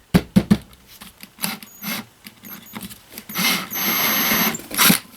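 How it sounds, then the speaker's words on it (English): A small power drill boring holes in homemade generator head gasket material whirs in short bursts amid clicks and handling noises, then runs steadily for about a second near the end. "so I've got a drill."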